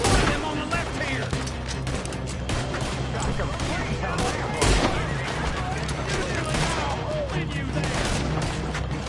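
A Red Dead Redemption 2 shootout crackles with dense, rapid gunfire, overlapping shots and bursts filling the scene loudly, while a voice speaks briefly over the shooting.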